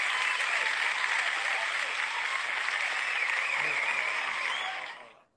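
Sustained applause effect of dense, even crowd clapping at steady loudness, with no voices, fading out quickly at the very end.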